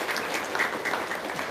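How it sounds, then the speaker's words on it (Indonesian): Audience clapping in a brief burst, a dense, even patter of many hands at moderate loudness. "tepuk tangan dong"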